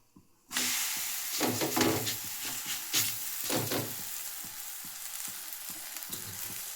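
Rice flour thalipeeth frying in oil on a pan, a steady close sizzle that starts abruptly and keeps hissing, with a few louder spitting bursts early on, no voices.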